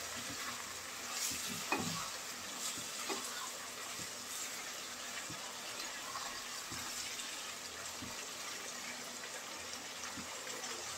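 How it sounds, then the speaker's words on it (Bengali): Beef curry with potatoes and whole garlic being stir-fried in a pot over high heat, giving a soft, continuous sizzle and bubbling with occasional faint stirring knocks, heard fairly quietly throughout. "গোশতটা খুব ভালো করে কষিয়ে নিতে হবে।"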